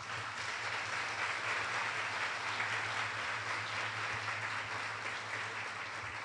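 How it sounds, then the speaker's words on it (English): An audience at an annual awards event applauds to honour the families, a steady, even wash of clapping heard faintly, with no voices. "So if we could recognize their families right now with applause as well."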